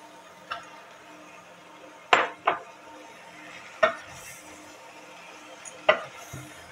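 Quarter kilo of mutton goes into a pan of sautéed onions for green chilli mutton curry, heard as a few sharp, close scraping clacks of a spoon against the pan spaced over several seconds, with a faint sizzle underneath.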